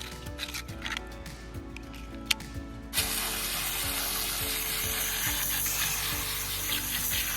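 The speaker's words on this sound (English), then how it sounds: "I'm gonna clean these screens real quick." Greasy vent hood screens from a Whirlpool range hood are scrubbed clean outdoors, with faint rubbing and clicks followed by a steady, loud hissing spray-like wash.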